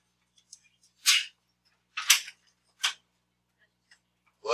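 A few sharp, breathy bursts close by, separated by silence, like a sneeze or sniffs.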